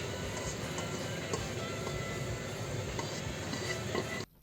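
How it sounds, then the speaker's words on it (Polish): Frozen vegetables frying in fat in a pan after onions, giving a steady close sizzle with faint clicks of stirring, continuous until an abrupt stop at the end. "żeby móc usmażyć teraz warzywa mrożone"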